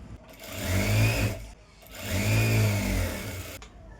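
A sewing machine stitching a blouse lining runs in two sustained whirring bursts, each rising and easing off, with a short pause between them and no talking.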